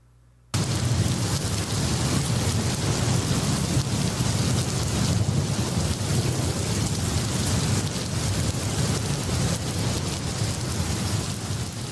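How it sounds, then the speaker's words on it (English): Heavy rain pours in a dense, steady roar with deep thunder rumbling underneath, bursting in suddenly after a moment of near silence and holding at full loudness throughout a dramatic storm scene in a show trailer. "The rain was unbelievable. There's really no way to describe it other than buckets pouring out."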